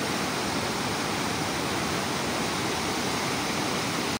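Dense, constant roar of rushing river water at the Vishnuprayag confluence of two Himalayan rivers, loud and close, with no voices and no letup until it cuts off abruptly.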